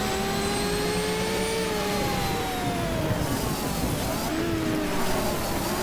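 A Porsche race car engine in GTR2 at the Tsukuba circuit drones steadily and loudly throughout, its pitch sliding up and down through gear changes with constant tire and wind noise beneath.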